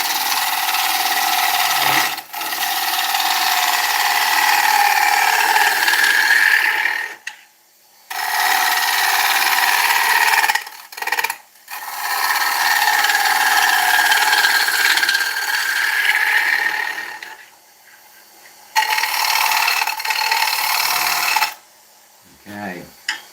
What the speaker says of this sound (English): because I can only hear the lathe.